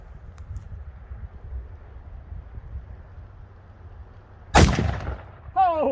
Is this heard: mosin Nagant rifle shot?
yes